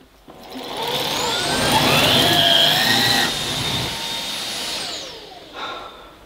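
A Miele Duoflex HX1 cordless vacuum cleaner runs on carpet with a steady high whirring motor and airflow roar that swells, wavers, then cuts out near the end, close and loud with no talk.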